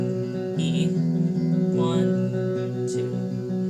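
An electric guitar strums the verse of a song, with sustained chords ringing and changing across a short passage, close and without voices.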